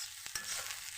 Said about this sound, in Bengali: পেঁয়াজকুলি দিয়ে আলু দিয়ে ভাজাটা প্রায় হয়ে এসছে